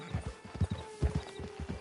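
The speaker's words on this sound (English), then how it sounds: "Just get on the horse when you're good and ready, okay?" Horse hooves clip-clop in a steady walking rhythm on a dirt path in the Red Dead Redemption 2 Online video game, with occasional snorts, close and clear with no talk.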